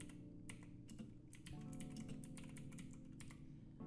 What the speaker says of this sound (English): Once you have the code, you only have to type it, okay? You have to type the code.